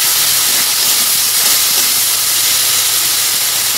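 Spice masala frying in a pan, a steady loud sizzling hiss that runs without break and covers the whole stretch, with no talking over it.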